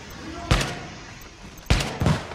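Two or three sharp, loud gunshot blasts ring out with gaps between them in the video game Tom Clancy's The Division, their echoes trailing off over a low background hum.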